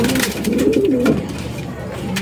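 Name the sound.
racing pigeons cooing while being put in a training box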